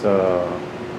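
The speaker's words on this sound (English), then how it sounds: "Let me shut this air conditioner off." An air conditioner runs nearby with a steady droning hum and a tonal whine, fairly loud at first and easing slightly partway through.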